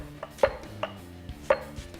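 A knife chops half an onion into big pieces on a board, with four or five distinct, fairly loud thuds at irregular spacing over a low background hum.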